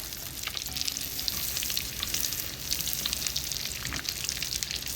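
Butter melting into oil in a pan, a close, steady bubbling sizzle with tiny crackling pops throughout, fairly quiet and uninterrupted, with no one talking.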